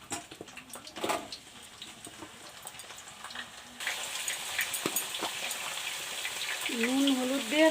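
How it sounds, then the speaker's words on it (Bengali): Potatoes hit hot oil and fry with a steady crackling sizzle that swells partway through, and a voice speaks briefly near the end over the frying. "তেল গরম হয়ে গেছে, এবার আলুটা ভেজে নেব আমি"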